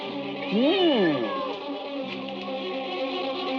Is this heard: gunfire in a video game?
no